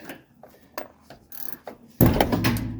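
A wrench works a nut on the suspension of a 1979 Mercedes 300SD during a suspension overhaul, producing a few sparse metallic clicks and ratcheting taps, then a louder, denser burst of mechanical rattling in the last second.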